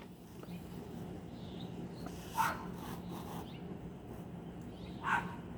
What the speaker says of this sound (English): There's one little barking little dog over there.